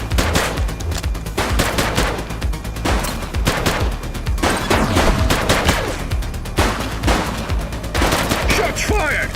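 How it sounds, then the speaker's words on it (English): Gunfire in a police shootout in the video game The Precinct, dense rapid volleys of loud, close shots crackling nearly nonstop, with a faint voice underneath at times. "Shots fired!"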